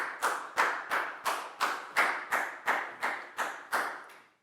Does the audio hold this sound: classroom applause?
yes